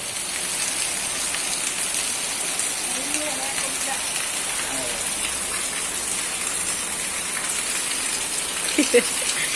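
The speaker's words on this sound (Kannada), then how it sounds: "ಆಚೆ ಅಂತೂ ಮಳೆ ತುಂಬಾ ಜೋರಾಗಿ ಬರ್ತಿದೆ" Heavy rain falls steadily outside a home during a festival gathering, a constant even wash of close hiss, with a brief faint knock near the end.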